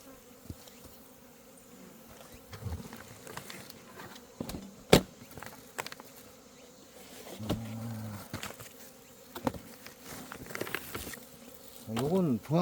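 Honeybees buzz faintly around an opened hive box that once housed Asian honeybees, with scattered handling clicks and taps nearby and no talk.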